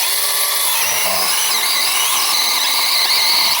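A Leader mini circular saw cuts with a loud, high-pitched whining squeal that holds steadily close by, with no talk over it.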